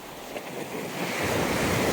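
Black Sea surf rolling onto Odesa beach, a steady broadband wash of waves building slightly louder toward the end, with wind noise buffeting the microphone and no voices.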